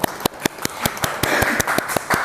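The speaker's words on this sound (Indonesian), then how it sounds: "Patut diberi tepuk tangan." Sharp handclaps ring out at a steady beat for a podcast guest, a small group clapping up close in a short, brisk burst.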